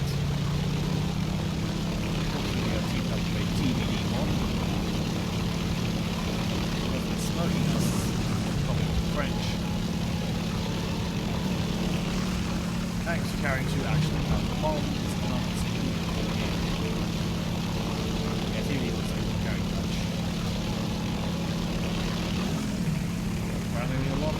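A Potez 633 twin-engine aircraft in the War Thunder video game flies steadily, its engines giving a constant loud drone for the whole stretch, with a voice talking faintly underneath.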